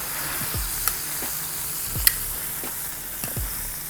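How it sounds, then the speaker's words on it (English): Burger patties sizzle on a steel flat-top griddle under a steady hiss, with a few sharp scrapes and presses as the spatula smashes them down. "I'm gonna smash these down a little bit"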